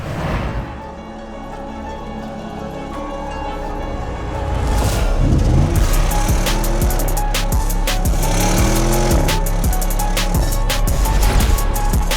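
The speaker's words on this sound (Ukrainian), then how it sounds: "Audi RS Q8." An Audi RS Q8 with a 600-horsepower engine revs up, rising from a low idle into loud, repeated climbing engine sweeps with some clicking. No voices are present.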